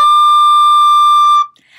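A recorder's low D overblown, producing one loud, shrill, piercing sustained tone that holds steadily for about a second and a half before cutting off abruptly into near silence.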